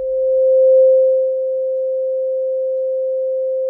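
A single synthesizer key tone shows its ADSR envelope: a pure, steady, sine-like pitch that swells slightly near the start, then holds level until it ends abruptly, with no voices.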